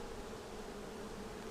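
Honeybees buzz steadily around a freshly built honey super on a honey farm, a dense, continuous low hum close by with no voices.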